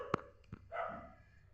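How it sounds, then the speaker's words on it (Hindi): Dogs bark somewhere nearby, a couple of short sharp yaps followed by a longer whining bark, fairly faint, standing out from a quiet room background. "कुत्ते भौंक रहे हैं"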